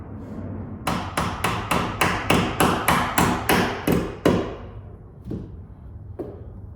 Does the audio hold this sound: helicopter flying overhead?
no